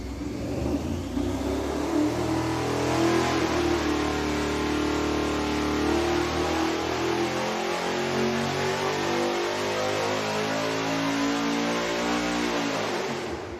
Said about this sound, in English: Now we're ready to go with the quad mufflers. We got the MagnaFlow right on the header and the Hookers out back.